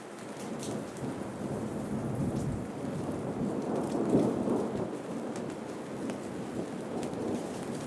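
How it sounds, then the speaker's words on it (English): Thunder rumbling through a steady rainstorm, a continuous low roll swelling around the middle under constant rain hiss. No voices. "And it's been rumbling all morning."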